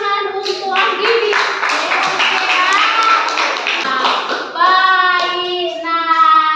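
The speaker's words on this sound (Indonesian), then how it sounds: "Berikan tepuk tangan untuk Anggini." Children in a school classroom clap together in a rhythmic pattern, with their voices chanting in tune over the claps, steady and loud throughout.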